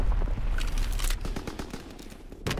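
A turret fires in an online shooter game: rapid bursts of loud automatic gunfire in the first half, thinning to scattered shots and a final sharp blast near the end.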